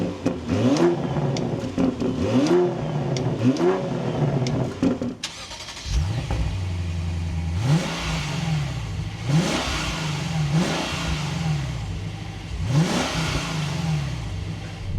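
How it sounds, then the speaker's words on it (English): A BMW M340i car engine revs repeatedly, each burst rising sharply in pitch then falling back, with a deep exhaust rumble between the revs, loud and close. "we have different engines, so we have different exhaust notes."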